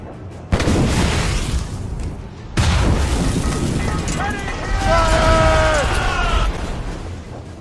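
Naval cannon broadside in the video game Assassin's Creed Rogue, two heavy booming volleys that roll into a long rumble, with shouted crew voices over the tail.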